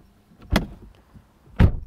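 Two solid thuds about a second apart, close and dull, as a Porsche Taycan Turbo's car door is shut firmly, with near silence around them.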